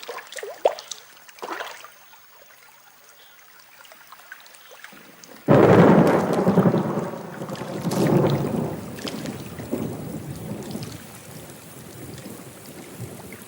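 Heavy rain with thunder: a quiet, sparse patter suddenly gives way to a loud, dense downpour with deep rolling rumbles, steady and close, with no voices.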